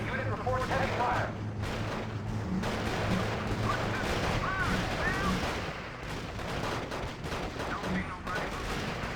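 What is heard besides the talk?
gunfire and artillery in R.U.S.E. video game battle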